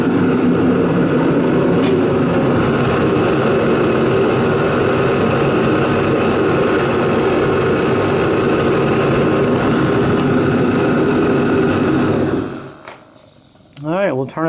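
Procom 110VT turbo heater running steadily with a loud, constant roaring blast close by for about twelve seconds, then shut off and spinning down, with a brief voice near the end.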